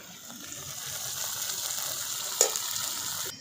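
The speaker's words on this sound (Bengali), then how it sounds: "দেখুন এই সমস্ত মশলাগুলো খুব ভালো করে কষানো হয়ে গেছে। দেখুন কি সুন্দর তেল ছেড়ে ছেড়ে এসেছে।" Spice paste for a vegetarian jackfruit kofta curry fries in oil, giving a steady close sizzle with a brief louder spatter near the end, no talk.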